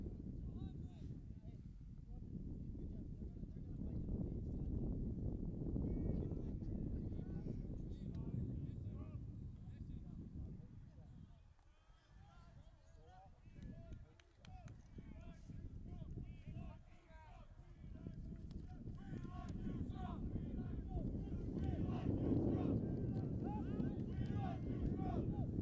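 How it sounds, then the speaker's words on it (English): Gusting wind buffets the microphone at an outdoor college rugby match, a loud low rumble that swells and eases over many seconds beneath a commentator's talk. "The wind is gusting out here pretty good."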